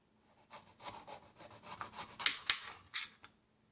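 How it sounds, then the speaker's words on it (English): A knife cutting off the bottom of a fruit, a short run of rhythmic scraping, rasping strokes that grow sharper toward the end with a couple of crisp snaps, close and quiet with no voices. "and I'm going to cut the bottom,"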